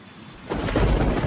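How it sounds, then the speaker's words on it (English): A deep rumble of monsoon thunder swells in abruptly over soft rain, loud and rolling for a moment. "The annual monsoon is sweeping up from the south."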